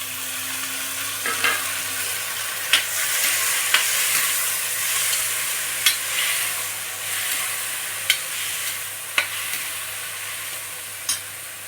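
Tomatoes and green chilies frying in a pan for dal give off a steady, close sizzle, broken by occasional sharp spatula scrapes and taps as they are stirred, with no talking.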